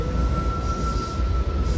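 A train bound for Panvel rumbles steadily nearby with a constant low roar and a faint high whine, no voices.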